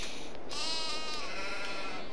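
A sheep in the farming video game Farming Simulator 22 gives a single loud, close, wavering bleat lasting over a second, heard alone.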